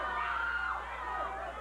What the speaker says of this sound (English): No, the crowd is saying no way.